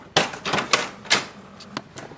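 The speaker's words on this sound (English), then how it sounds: "Wait for the ink cartridges to come into the middle." An HP DeskJet 2723e printer moves its ink cartridges with a few sharp clicks and clacks, then a quieter whir of the carriage, close and alone.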